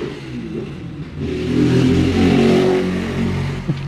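Traffic passes on a street, engines revving and accelerating, swelling into a loud, sustained roar close by before easing slightly, with a small clatter near the end.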